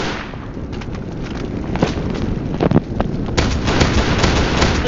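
Shotgun blasts ring out in a video game firefight amid a busy, noisy battle soundscape, with sharp irregular reports spread across the stretch and heavier bursts toward the middle and end.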